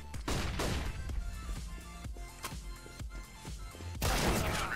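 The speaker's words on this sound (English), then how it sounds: "throwing a flashbang." Flashbang grenade going off in a Counter-Strike round amid a burst of sharp cracks and repeated gunshot-like impacts, ending with a loud bright bang near the close.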